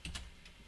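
Keys tapped on a computer keyboard while entering commands at a Windows command prompt, two quick faint clicks near the start followed by a softer one, quiet and close.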